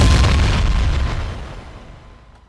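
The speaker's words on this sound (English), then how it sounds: "I play this sound, you'll see that the orbit only starts when we hit that thud or impact layer" A single deep impact thud from the UVI Orbit synthesizer's impact layer, a heavy boom-like hit that starts loud and decays over a couple of seconds.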